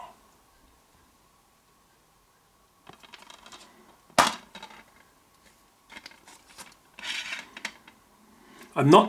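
A Doctor Who Season 12 Blu-ray disc is handled and straightened in its plastic case, giving faint intermittent clicks, rubs and scrapes, with a sharper plastic snap near the middle and another near the end.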